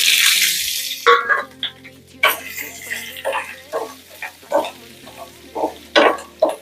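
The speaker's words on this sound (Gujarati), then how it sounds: "હવે આપણે આ જે મરચાં સમાર્યા છે એ નાખી દઈશું અંદર।" Chopped green chillies tossed into hot tempering oil with asafoetida give a brief loud sizzle, followed by a quieter fry and repeated clinks of a spoon stirring in the pan.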